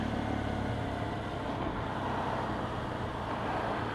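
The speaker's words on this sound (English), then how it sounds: "Car coming towards me." A car approaching on the road, a steady engine and tyre hum against traffic noise, moderately close and fairly quiet, without voices.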